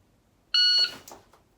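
Shooting timer used for dry-fire practice, a single sharp electronic beep lasting about a third of a second, then brief faint shuffling.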